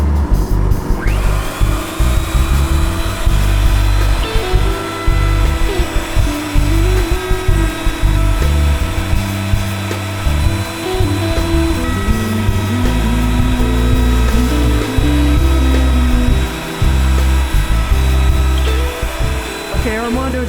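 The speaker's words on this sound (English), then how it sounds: "used a 1/4 inch router bit just to put this bevel around the edge" Loud, continuous whine of a router fitted with a 1/4 inch bit beveling the edge of an electric guitar body, steady and close for about twenty seconds with shifting pitch as the cutter bites the wood.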